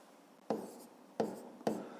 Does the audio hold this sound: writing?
yes